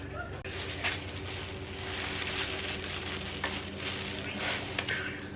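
Henna dye cooks on a stove with a continuous bubbling, sizzling hiss, joined by occasional soft stirring scrapes, close and steady throughout.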